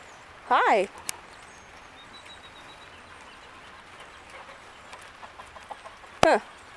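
A rooster gives two sharp, rising-and-falling alarm calls several seconds apart, with a quiet outdoor background between them.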